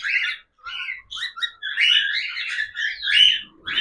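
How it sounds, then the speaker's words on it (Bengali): A cockatiel, an older bird about six years old, chirps and whistles in quick bright bursts close to the microphone, with short pauses between calls and no talking. "সবচেয়ে পুরনো ককটেল পাখি আমার কাছে রয়েছে"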